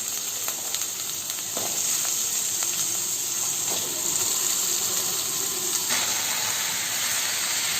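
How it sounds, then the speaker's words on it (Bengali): Washed potatoes sizzle and fry steadily in a pan for a Bengali white potato curry, a continuous close hiss with occasional stirring clinks and no talking. "আলুটা কিছুক্ষণের জন্য আমি ভেজে নেব।"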